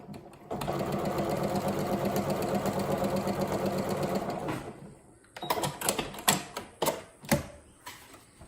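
A sewing machine runs steadily for about four seconds, stitching a seam through a pinwheel quilt block, loud and close. It then stops, and clicks and handling noises follow.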